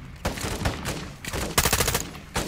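Short-range sniper rifle shots in Call of Duty Modern Warfare 2 crack in several close, heavy blasts, one followed by a rapid rattling flurry, set in the woods of Las Almas, Mexico.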